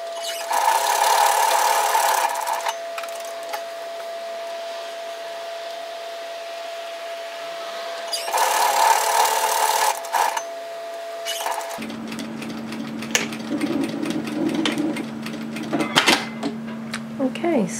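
A sewing machine runs in two bursts while stitching a pocket bag into a shacket, the whirring motor close and loud with a pause between, followed by quieter handling of fabric.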